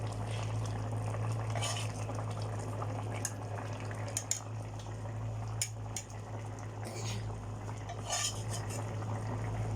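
Fish cooks in a pan while utensils scrape and clink against it, over a steady sizzling bubble and a low background hum, with scattered close metallic taps.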